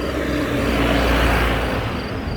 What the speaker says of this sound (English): you probably just heard that truck